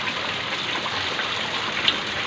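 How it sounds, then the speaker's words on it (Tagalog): Steady, dense rain hiss with no breaks, a continuous wash of falling water at moderate level, during a Signal No. 2 typhoon with flooding. "eh ngayon, dire-diretso po yung ulan"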